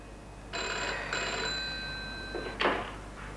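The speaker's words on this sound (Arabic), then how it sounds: "هسه صار 10 مرات يدق التليفون وينطبق بوجهي" An old-fashioned telephone rings at home in a bright electronic double ring. Two bursts sound close and clear, and a short clatter follows as the receiver is handled.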